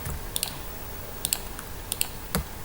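Sparse keystrokes on a computer keyboard, a handful of crisp clicks in small clusters over a steady background hiss, close and fairly quiet with no talking.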